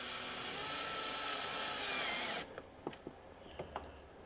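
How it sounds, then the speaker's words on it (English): A power driver whines steadily as it drives the original screw back into the trim on a Can-Am Spyder, then stops abruptly, leaving a few quiet clicks and taps up close. "Stick the original screw that was in there from when we took the original trim piece off."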